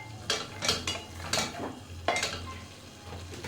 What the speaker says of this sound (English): I'm just going to reduce the heat and let our tomatoes cook fully